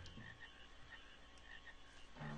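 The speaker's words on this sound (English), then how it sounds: "Oh, look, a gold frog." A gold frog croaks in Final Fantasy IX amid a busy marsh game soundscape, with soft repeating tones and a steady background wash, ending in a louder low-pitched note.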